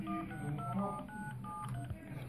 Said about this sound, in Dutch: Dat is een telefoon, jongens en meisjes.